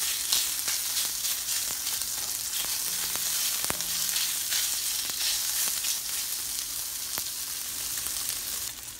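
Pork belly frying and caramelizing in a hot pan, a steady dense sizzle with scattered sharp pops and crackles throughout, close and fairly loud.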